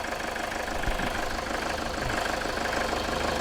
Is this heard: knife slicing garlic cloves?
no